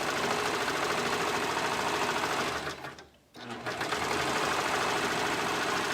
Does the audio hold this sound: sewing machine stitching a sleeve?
yes